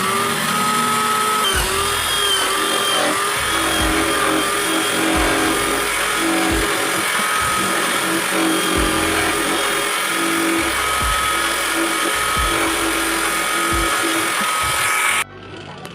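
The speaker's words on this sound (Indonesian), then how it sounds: "Selanjutnya kita bor sesuai dengan ukuran lubang jari yang akan kita pergunakan." A power drill bores a finger hole in a coconut shell ring, a loud, steady high whine with repeated short dips and bites as the bit cuts, ending abruptly near the close.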